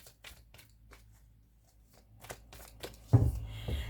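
A deck of tarot cards is reshuffled by hand, a series of quick soft riffles and slaps, close and fairly quiet, ending in a louder flurry of shuffling.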